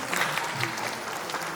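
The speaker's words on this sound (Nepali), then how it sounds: "एकचोटि जोरदार तालीले उहाँलाई स्वागत गर्छौँ।" An audience at a group dance competition in Tokyo welcomes a guest, a crowned pageant winner, with a short, steady burst of dense applause.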